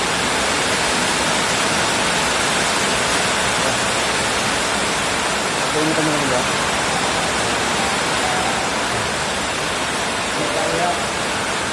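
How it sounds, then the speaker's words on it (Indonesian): Heavy rain driven by wind pours down steadily in the late afternoon at a livestock pen, a dense broadband roar throughout, with someone speaking briefly over it. "Hujannya gede banget teman-teman, hujan,"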